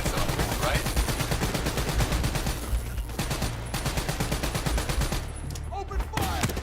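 Dense, rapid automatic gunfire in the video game Call of Duty Black Ops 3 rattles continuously in the foreground, bursts overlapping with heavy low thumps and occasional shouted voices.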